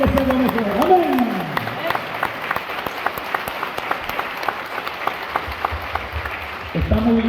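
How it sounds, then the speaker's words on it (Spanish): A church congregation applauds for Jesus during a sermon, with steady rhythmic clapping filling the room and a voice speaking over it at the start and again near the end. "Esos aplausos están muy tristes"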